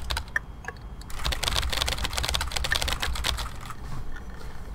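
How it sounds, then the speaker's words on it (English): A loud computer keyboard clatters with rapid, dense keystrokes heard up close, starting after a second of quieter tapping and continuing steadily to the end. "And it's my keyboard, it's just loud, by the way."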